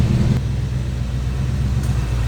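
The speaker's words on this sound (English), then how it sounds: "A little rumble coming out of that 350." The 350 V8 engine of a 1988 Chevrolet K5 Blazer 4x4 idles in a steady, loud low rumble, with a faint short click partway through.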